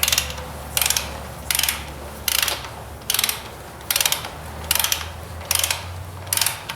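A ratchet wrench clicks in steady bursts while tightening a bolt on a 1944 Ford 2N tractor, about nine evenly spaced rounds of sharp, close pawl clicks over a low hum, with no talk.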